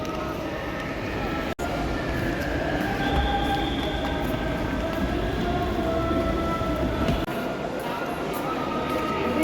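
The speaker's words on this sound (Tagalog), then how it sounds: "The choo-choo train is there." A small choo-choo ride train runs through a busy shopping mall in Dubai, its steady rolling rumble and faint wheel squeal continuous and fairly loud beneath nearby chatter and crowd noise.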